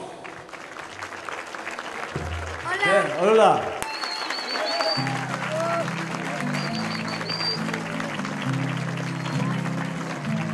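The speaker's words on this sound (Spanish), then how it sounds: "¡Fuertes los aplausos!" Audience applause greets a band at a cultural evening concert in Loja, a steady clapping wash running throughout, with a brief spoken greeting near the start and guitar notes entering under the clapping.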